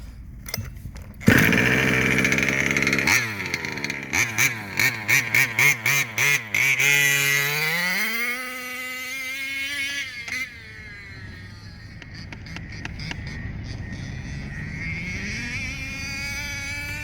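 A small high-pitched engine on a Losi 5B RC car with a tuned pipe sputters, then screams up and down through revs in rapid bursts before settling into a steady buzzing idle.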